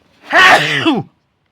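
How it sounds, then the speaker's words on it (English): A single loud, close sneeze from one person bursts out and ends within about a second, leaving silence before and after. "I wanted to just catch that sneeze on camera there"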